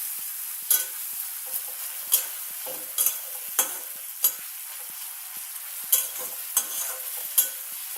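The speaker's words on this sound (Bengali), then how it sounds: "লঙ্কা গুঁড়ো দিয়ে আমি পেঁয়াজ আর টমেটোর সাথে ভালো করে মশলাটা আমি কষে নেব" Onion, tomato and chilli-powder masala stirred and fried in a pan, with a steady sizzle behind repeated sharp scrapes and clinks of the spoon against the pan, irregularly spaced and close by.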